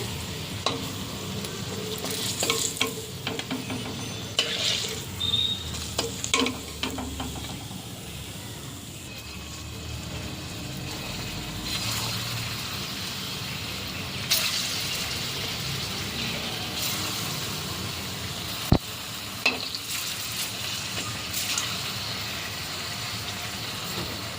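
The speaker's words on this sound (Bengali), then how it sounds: "সব বলগুলো কত সুন্দর লাল লাল করে ভেজে নিয়েছি" Dough balls for mango rasmalai frying in hot oil give a steady, close sizzle, with occasional clicks and scrapes of stirring throughout.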